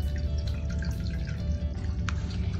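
Urine drains from a urinary catheter leg bag into a toilet, a steady close trickle with small drips over a constant background rush.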